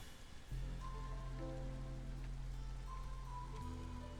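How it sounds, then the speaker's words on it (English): Soft drizzle falling in the Against the Storm game, a steady faint patter of rain under a sustained musical drone with gentle tones drifting in and out. "we're in the drizzle season"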